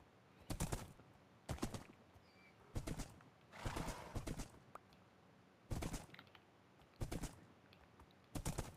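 Donkey in the Minecraft video game making a series of loud, short braying or stomping bursts, about eight of them spaced roughly a second apart over a quiet background.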